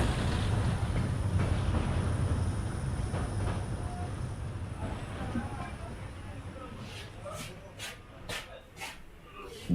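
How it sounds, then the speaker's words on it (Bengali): A fast-running train at night, its loud rumbling rush easing off toward the end, where a few sharp clicks and knocks stand out over a quieter background. "ট্রেন ছুটছে বেশ জোরে।"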